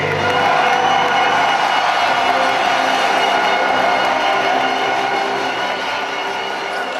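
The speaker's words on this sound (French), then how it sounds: "Applaudissements une nouvelle fois à l'équipe de Poitiers." A crowd in a volleyball arena at the 2011 French LNV final between Poitiers and Tours cheers for the Poitiers team, a loud, dense and sustained roar that fills the whole stretch.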